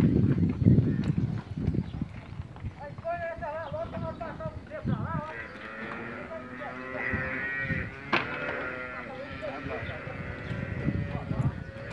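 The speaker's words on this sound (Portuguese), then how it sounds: "o gado vai entrando na boa" Cattle walk into a masonry corral, with soft hoof steps and shuffling, occasional lowing and animal calls, and background noise throughout the stretch.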